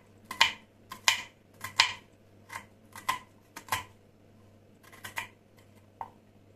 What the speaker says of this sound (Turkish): soğanımızı da şöyle güzel ince ufak ufak doğrayalım